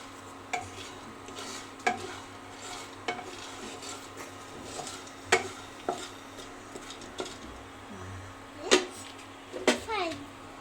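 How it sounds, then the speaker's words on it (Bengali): Food being stirred in a cooking pot on the stove during a child's first cooking attempt, with scattered scrapes and light clinks of a utensil against the pot under a soft sizzle, while people talk throughout. "আবার একটু নেড়ে দাও।"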